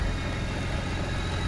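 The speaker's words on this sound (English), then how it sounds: "here is the M1 Supercharger Kit on E46 M3 with the S54 engine" A BMW E46 M3 with the S54 engine and an M1 supercharger kit idles steadily, a low continuous engine rumble with a faint whine above it, fairly close and without talk.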